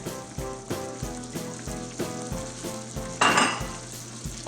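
Vegetables sizzle steadily in a hot pan for seafood risotto, stirred with regular rhythmic scrapes of a utensil and one louder hissing burst, close and without talk.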